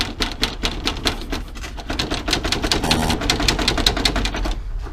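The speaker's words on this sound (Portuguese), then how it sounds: "O para-choque tá todo solto." The loose front bumper of a Chevrolet Corsa rattles in a dense, rapid clatter of plastic knocks, loud and close with no talking.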